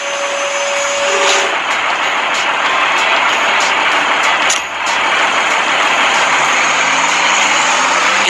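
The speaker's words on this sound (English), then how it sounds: "A wheel loader is a heavy equipment machine used in construction mainly for uploading materials into trucks." A construction wheel loader's engine runs at a loud, steady roar, close by and unbroken for several seconds, with one brief dip partway through.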